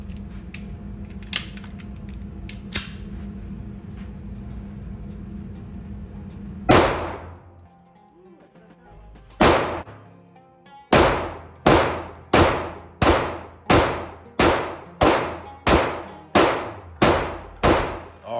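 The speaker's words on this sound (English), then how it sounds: "13 round mag dump." Rapid string of about a dozen sharp gunshots from a Smith & Wesson M&P Shield Plus pistol emptying a 13-round magazine, evenly spaced and loud, following a few scattered distant shots and background noise.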